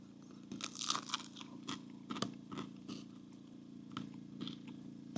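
Crunchy campfire-baked bread is bitten and chewed up close, giving a series of crackling crunches of the crisp crust over a low background hum.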